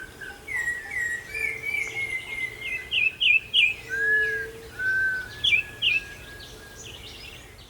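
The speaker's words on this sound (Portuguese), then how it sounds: "O amanhecer no sítio começa ao som do corrupião" A campo troupial singing at dawn on a rural Caatinga smallholding, clear loud whistled phrases near at hand, rising and falling in short bursts, with softer chirps from other birds behind.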